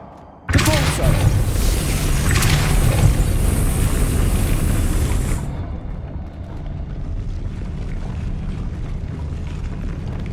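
A Depulso spell cast in the Hogwarts Legacy video game, a sudden loud booming blast that rumbles for several seconds, then cuts off into a quieter lingering ambience.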